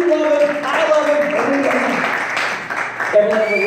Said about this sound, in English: let's give a big warm round of applause for Todd